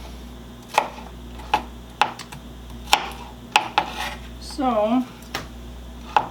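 A knife cuts open a very large onion on a board, several sharp chopping thuds and a longer slicing rasp, close and clear, with a brief spoken word at the start.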